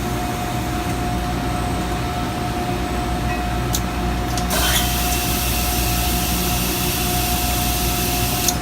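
An automated machine picks up checked tube liners and sets them into an engine block, heard as a loud steady mechanical whir and hum with a faint tonal whine and a sudden shift in pitch midway.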